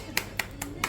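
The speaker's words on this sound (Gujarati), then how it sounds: "તાળી પાડજો" At a family's wedding anniversary celebration, people give four sparse, separate claps in a short burst against a low, murmuring room.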